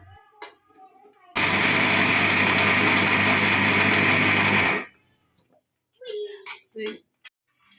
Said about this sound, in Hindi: मैं तो मिक्सी में पीस रही, आप चाहें तो किसी भी तरीके से इसको दरदरा कर सकते हैं।